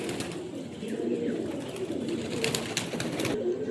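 A pair of Madras pigeons coo steadily in soft, repeated low murmurs, with faint chirps and light rustling around them; the sound is close and continuous throughout.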